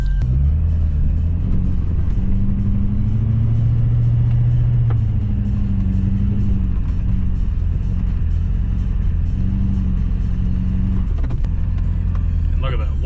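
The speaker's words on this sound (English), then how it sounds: "big heavy truck plows are just awesome" A big heavy truck fitted with new tires pushes a snow plow, its engine droning low and loud with shifting tones, while someone talks throughout from inside the cab.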